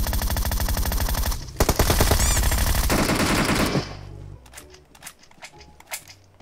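Gunfire in the video game PUBG: rapid automatic bursts rattle loudly up close for several seconds, then give way to scattered single shots and clatter further off.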